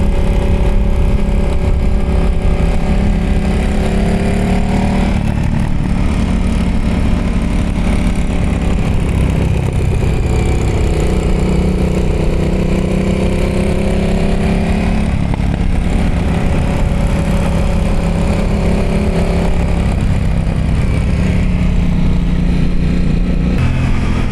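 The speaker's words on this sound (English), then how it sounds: "he had a new pipe installed on that bike, and it sounds even nicer than it did before." A Kawasaki Ninja H2 SX SE motorcycle with a newly installed exhaust pipe runs close and loud, its engine droning steadily and rising and falling in pitch through the whole stretch.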